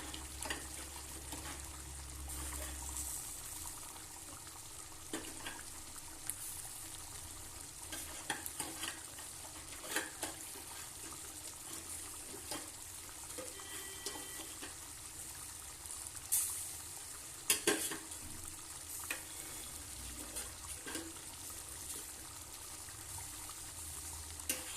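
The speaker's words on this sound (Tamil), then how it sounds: "நம்மளுடைய குழம்பு வந்து நல்லா கொதிச்சுட்டு இருக்கு" A pot of Tamil ennai kathirikai kuzhambu, an eggplant curry, bubbles and simmers steadily, with faint clinks of a spoon stirring now and then; no voices.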